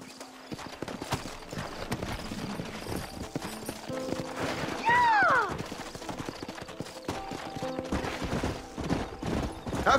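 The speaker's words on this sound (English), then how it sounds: "Horses are over here!" Steady clip-clop of horse hooves at a brisk walking pace in the video game Red Dead Redemption, with a short whinny partway through and other mechanical clatter mixed in.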